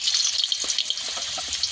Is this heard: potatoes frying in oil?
yes